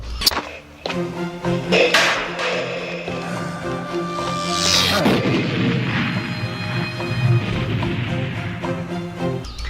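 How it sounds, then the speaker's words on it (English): A film effect of a mutant being blown up: a sharp crack at the start, then a swelling, rumbling explosion with a whooshing burst midway, set in a dense, tonal soundtrack that continues throughout. "this time with a sharp weapon that made him explode"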